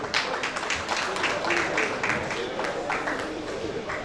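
Guests at a retirement party give the MC a round of applause, steady crowd clapping with a few louder claps, continuous throughout, with some speech mixed in.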